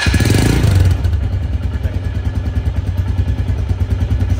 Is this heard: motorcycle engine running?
yes